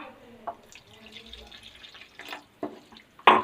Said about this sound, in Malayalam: ഇനി നമുക്ക് കുറച്ചും കൂടെ വെള്ളം ഒഴിച്ചു കൊടുക്കാം